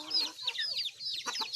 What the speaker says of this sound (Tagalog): Itom nga manok na siya.